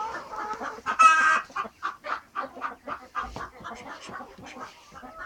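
Silkie chickens cluck close by in quick, uneven bursts of short clucks, with one louder squawk early on and no talking.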